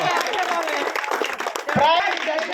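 An audience at a Diwali game competition claps for a prize winner, a lively burst of applause mixed with chattering voices, including children, filling the space nearby.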